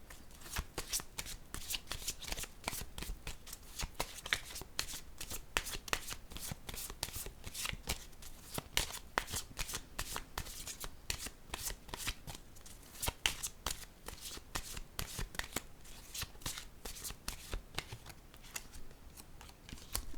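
Playing cards shuffled steadily and repeatedly before a pink card is drawn, a dense run of crisp riffling clicks at close range, with no talk over it.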